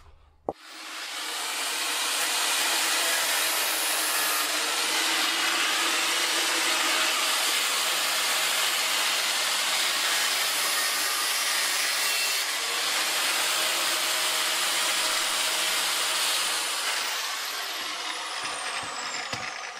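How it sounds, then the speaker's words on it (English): An angle grinder cuts through a dirty bicycle chain caught behind the frame, a loud, steady, close high-pitched grinding whine that starts abruptly and holds almost unbroken for the whole stretch. "Dirty chain is still caught behind the frame, so I will need my angle grinder."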